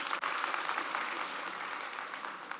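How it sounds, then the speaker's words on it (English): A conference audience claps at a tech summit, a dense, even burst of many hands that fades slightly toward the end, with no talk. "I think we need a clap"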